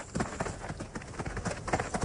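Horse hooves clip-clop in a steady, close rhythm of hard knocks, with a faint bit of voice in the background.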